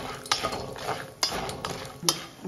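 Peanuts and cashews roasting in ghee in a pan, stirred with a metal spoon: three distinct scraping clinks against the pan, with a soft rattle of nuts and a faint frying sizzle between them.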